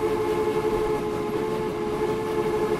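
A train pulls in within the Transport Fever tycoon game, a steady loud rumble of rolling wagons with a sustained horn-like tone running throughout, no voices.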